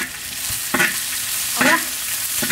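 Fried pork belly with garlic and chili is stir-fried in a wok, a steady hissing sizzle broken by a few scraping strokes of the spatula, close up with no talking.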